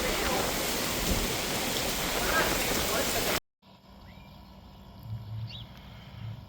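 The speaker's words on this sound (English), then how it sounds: "the storms are finally rolling out this morning" Heavy rain from a passing storm pours down loudly and steadily, then cuts off abruptly, leaving a quieter outdoor wash with faint rumbling and light sounds afterward.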